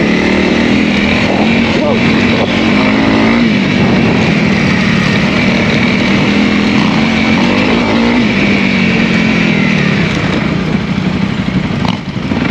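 Honda CRF300L dual-sport motorcycle engine droning steadily while ridden off-road, a loud continuous drone with gentle pitch shifts and rushing wind throughout.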